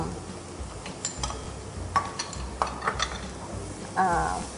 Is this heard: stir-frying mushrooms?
yes